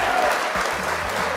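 A short burst of crowd applause plays during a livestream, a bright, even wash of clapping at fairly high level lasting just over a second.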